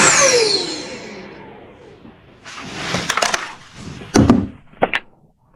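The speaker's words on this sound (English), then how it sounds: "The second turns the vacuum on and" A Makita DCL284F cordless vacuum cleaner spinning up and winding down with a falling whine, followed by clicks and knocks as it is handled nearby.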